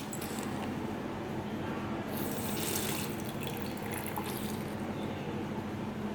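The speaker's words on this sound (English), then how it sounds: "So we are going to drop this distilled water in this" Distilled water pours steadily and continuously into a beaker, with a faint splashing trickle throughout, close and fairly quiet.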